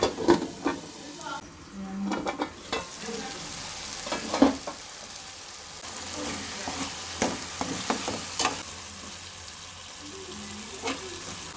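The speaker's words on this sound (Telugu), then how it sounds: "మూత పెట్టుకుని 5 నిమిషాలు లో ఫ్లేమ్లో ఉడకనివ్వాలండి." Chopped tomatoes cook in a covered pan over a flame for a spicy chutney, giving a soft steady sizzle with occasional clinks and clatters of the pan and lid. Faint kitchen sounds and a little background noise run underneath.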